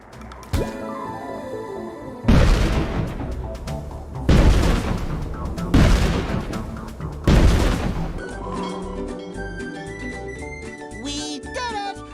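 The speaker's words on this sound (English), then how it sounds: "you'll be able to shoot the Dutchman's cannons to destroy the robot ship" Cannons on a ship fire at a robot ship in a SpongeBob video game, four heavy booming blasts spaced about a second and a half apart against a busy musical score.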